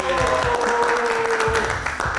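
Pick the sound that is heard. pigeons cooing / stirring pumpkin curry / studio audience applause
studio audience applause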